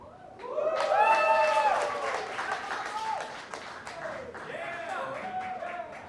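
An audience claps at a stand-up comedy show in the Milk Parlor, with a steady wash of applause rising and then lingering as voices carry over it.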